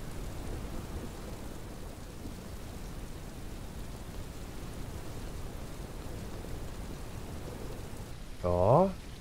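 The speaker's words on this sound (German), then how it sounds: "die haben, glaube ich, Regen eingefügt, denn vorher gab es, glaube ich, bisher keinen Regen" Rain falls steadily in the farm video game Ranch Simulator, a soft even hiss of drops lasting throughout, with a brief louder tonal sound near the end.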